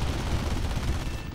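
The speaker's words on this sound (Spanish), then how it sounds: "si te pego tiros así, pues mejor" Steady, dense gunfire roars without a break from War Thunder, a rumbling continuous burst that fills the whole short stretch with no talking.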